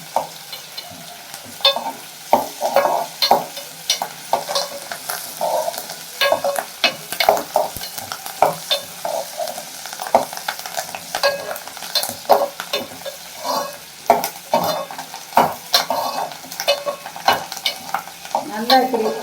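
Curry leaves and dried chillies frying in hot oil for a goat blood fry, with a loud continuous sizzle broken by frequent sharp spatters and stirring scrapes, close up and without any voices.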